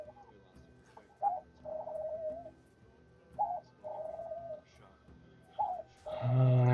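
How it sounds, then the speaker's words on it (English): Pet birds in a home coo and call in repeated short phrases, three bursts spaced a few seconds apart, moderately close and fairly loud, followed by a louder burst of chatter at the end. "my birds never sing this much until I'm doing something."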